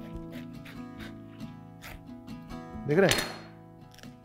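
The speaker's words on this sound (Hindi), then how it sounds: "उसके बाद बीच से कटहल को ऐसे काटें," A knife cuts through the middle of a jackfruit, giving one brief, crunchy slicing burst near the end, after quiet kitchen handling while someone talks.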